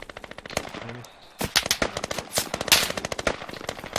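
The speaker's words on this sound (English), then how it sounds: "Someone's shooting us from behind." Automatic gunfire in the Squad video game, set in the Kohat Toi river valley, sounds as rapid, sharp bursts of shots, close and loud, broken by a short pause.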